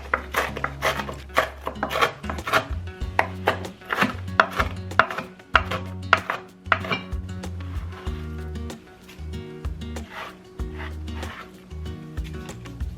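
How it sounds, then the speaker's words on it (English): A knife chops bacon into small pieces on a cutting board in a home kitchen, a quick run of sharp, close knocks, dense at first and then sparser, over a steady tonal background. "I diced up the onions, the peppers, and the broccoli really small, and I'm gonna do the same for the bacon"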